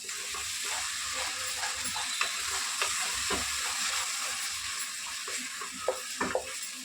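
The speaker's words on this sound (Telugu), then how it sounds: "ఇక్కడ ఫ్రై చేసుకుందాం." Blended tomato puree sizzles and fries in hot oil for a mutton boti curry, a soft continuous crackle with intermittent stirring scrapes.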